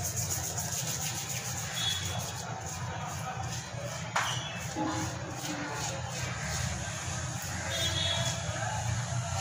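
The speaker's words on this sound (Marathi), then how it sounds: "हा लिंबू पिळायचा आहे. आणि पुन्हा आपल्या स्क्रबरने घासून घ्यायचं आहे." A stain scrubbed with squeezed lemon and a scrubber, giving continuous close rubbing and scraping strokes at moderate level throughout.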